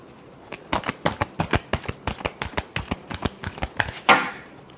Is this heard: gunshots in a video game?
no